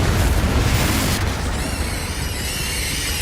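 Confringo fire spell blast in Hogwarts Legacy, a loud dense rumbling explosion that fills the first second and a half, then decays into a hissing, crackling tail with ringing high tones.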